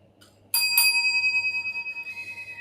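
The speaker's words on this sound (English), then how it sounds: "Bell, please." A bell is struck once on request during an interview, a single bright ring with clear overtones that rings on and slowly decays over a couple of seconds, with no talking.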